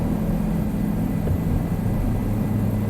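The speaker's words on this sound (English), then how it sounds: "by landing this helicopter right next to the house." A helicopter flies in Microsoft Flight Simulator, its engine and rotor making a steady, loud, low drone that holds without a break.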